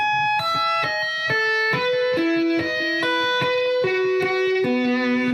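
Rapid two-hand tapped electric guitar notes on one string, crisp and evenly spaced, descending in a flowing sequence with a sustained, slightly driven tone and no voices.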